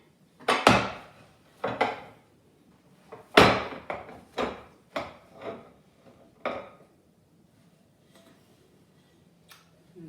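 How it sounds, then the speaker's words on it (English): A hot pan of chai spiced banana upside down cake is flipped onto a plate with oven mitts, giving a series of distinct knocks and clunks of pan on plate, fairly close, then quiet. "now it's time to flip it out onto the plate"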